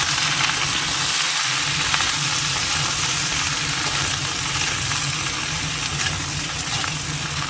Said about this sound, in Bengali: কড়াইতে তেল দিচ্ছি এটাকে একটু ভেজে তুলে নেবো